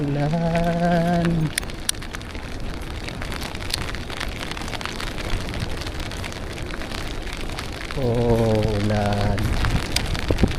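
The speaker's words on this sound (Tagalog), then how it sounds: "Ulan." Steady light rain patters and hisses on surfaces throughout, close and continuous, while cycling in Belgium, with brief bursts of speech near the start and again near the end.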